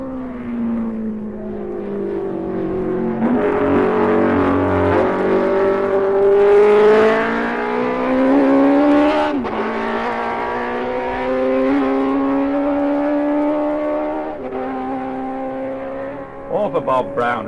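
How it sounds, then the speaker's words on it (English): A Norton racing motorcycle on the Isle of Man TT course roars past, its engine note rising and sweeping in pitch as it approaches close and loud, then fading slightly before another burst. "Or for Bob Brown, whose Norton was right off the megaphone."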